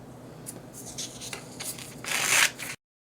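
Scissors cut out a small colored paper party hat, giving soft, close snips and rustling paper scrapes that build to a brief louder crinkle before stopping abruptly.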